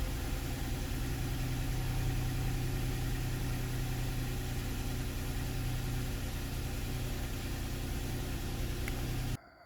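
A 2016-2022 Lexus RX350 V6 idles after a 60k-mile spark plug replacement, a steady, even mid-pitched hum heard from close by that cuts off abruptly at the very end.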